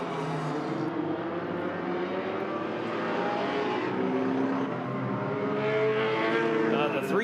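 Hornet class race cars running an enduro on the road course at Agassiz Speedway, British Columbia, engines droning steadily together at mid distance throughout, with a brief rising tire or engine whine near the end.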